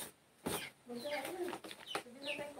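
Chickens clucking close by in a farmyard where the birds are hungry, with people talking over them throughout.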